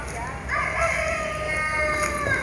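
Chickens at an animal sanctuary in Antipolo, with a rooster-like crow and clucking calls carrying over steady background noise.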